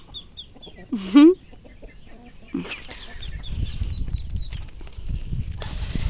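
A chicken gives a short loud squawking cluck close by, followed by softer clucks and rustling with faint bird chirps in the background.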